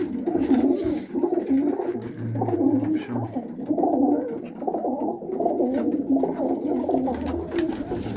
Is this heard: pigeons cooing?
yes